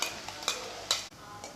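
Coarse crushed peanuts with green chilli going into a little oil in a pan, a faint steady sizzle broken by a few soft scraping stirs and clinks, close and quiet with no talk.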